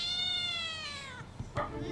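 A cat in the video game A Space for the Unbound lets out a single long, high, drawn-out meow that gradually falls in pitch, followed by a few soft knocks.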